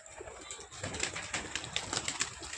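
Quick bursts of flapping wings from a racing pigeon taking off close by, the beats coming in a rapid, uneven flurry.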